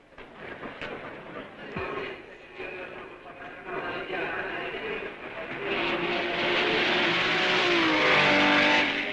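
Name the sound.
1955 Spa Grand Prix vintage race cars racing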